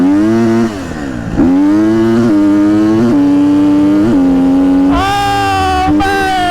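A car engine revs loudly during burnouts, climbing in pitch again and again in close, strained surges, with a sharper rise near the end. No one speaks.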